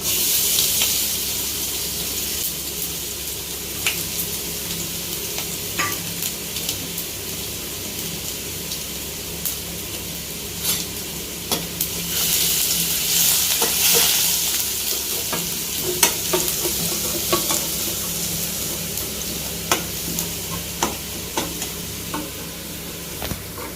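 Steady sizzling of garlic frying in hot oil, with occasional stirring clinks and scrapes, close and continuous throughout.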